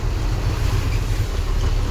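Heavy broadband rushing and splashing from a vehicle pushing through a flooded main road in torrential rain in Rajkot, Gujarat, steady and loud throughout with a deep rumbling low end and no talk.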